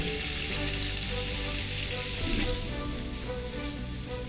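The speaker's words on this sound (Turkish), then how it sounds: "Şimdi bu eti hemen şöyle sadece birkaç saniye olmak kaydıyla yağın içerisine koyuyorum." A grilled ribeye steak is dropped into hot butter for a few seconds, giving a steady, dense sizzle and hiss that swells slightly midway, close and continuous with no talk.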